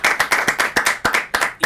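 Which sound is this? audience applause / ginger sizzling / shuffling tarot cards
audience applause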